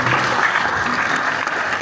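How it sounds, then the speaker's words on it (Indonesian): Crowd at a regional church council meeting in Malinau, North Kalimantan, giving a sustained roar of applause, thick continuous clapping filling the hall at steady loudness. "Tepuk tangan yang paling meriah."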